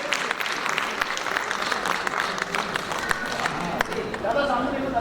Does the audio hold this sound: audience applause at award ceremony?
yes